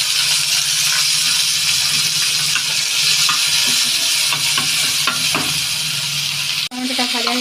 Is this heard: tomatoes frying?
yes